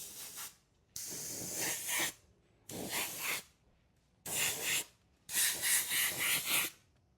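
Short bursts from a spray can lay a quick dust coat of white paint on an ARRMA Mojave Grom RC car body, five hissing sprays of varying length separated by brief pauses, close and clear with no talking.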